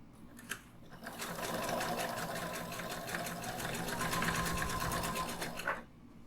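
A sewing machine stitches a shoulder bag with a lowered stitch length, a steady fast needle rattle running for about five seconds between brief pauses at the start and end, close and loud, with no talking.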